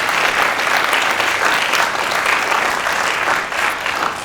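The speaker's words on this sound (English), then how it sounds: "Can we have a round of applause for Dr." Sustained applause from a lecture audience at the close of a talk on the cerebellum, dense steady clapping filling the room without pause, no voices standing out above it.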